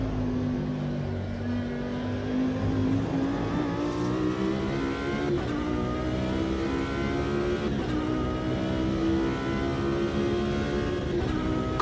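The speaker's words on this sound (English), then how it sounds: "I'll just shut up and just let you have a listen to the engine noise." A Lamborghini race car in the racing game Automobilista 2 drones steadily at high revs, with its engine pitch climbing and dipping through gear shifts, loud and continuous without talk.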